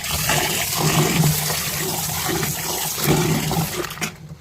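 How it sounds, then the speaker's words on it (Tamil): Water is poured over soaked, salted parboiled ration rice to wash it. There is continuous splashing and gushing, with two stronger surges, close and fairly loud, with no one talking. "அதில் எல்லாம் கொஞ்சம் தண்ணி ஊற்றிக்கலாம்"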